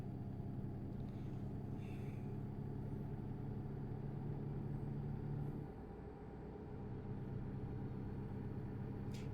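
A truck engine in the American Truck Simulator game drones steadily as a low, continuous rumble, dipping slightly partway through, quiet and unbroken with no talk.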